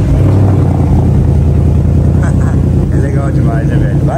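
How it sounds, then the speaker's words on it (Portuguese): A Ford Mustang Mach 1 fires up in normal exhaust mode, settling into a loud, deep, steady idle rumble that fills the whole moment, with faint background voices. "o escapamento tem vários modos de partida. Esse é o normal"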